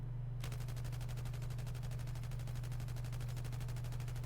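An M249 machine gun in Battlefield 4 fires one long continuous burst, a rapid, evenly spaced stream of sharp shots that starts abruptly and runs without pause.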